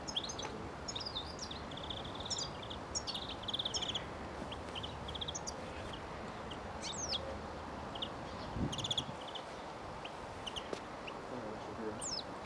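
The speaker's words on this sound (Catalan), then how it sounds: "va comissar a finals del mes passat 120 exemplars d'ocells frigílids en una finca del municipi de Fonollosa" Finches, about 120 seized birds held at a rural property, chirp and tweet in quick scattered bursts over a steady background hum, with a voice talking through much of it.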